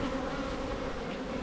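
Honey bees hum at an open hive during an inspection after a swarm, a dense, close, continuous buzzing drone with no talk.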